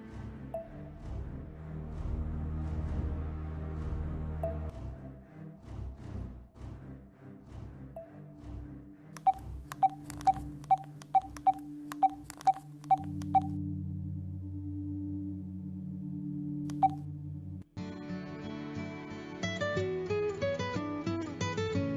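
A series of short, evenly spaced beeping tones as a phone number is keyed in, over a quiet musical background, followed by a brighter tone sequence.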